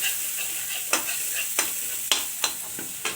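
Paneer pieces stir-fried in masala in a pan, giving a steady sizzle broken by sharp scrapes of a spatula at irregular intervals, close and fairly loud with no voices.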